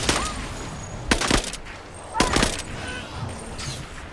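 Short bursts of gunfire in Marvel's Avengers, two prominent volleys separated by quieter stretches, heard over and between talking voices.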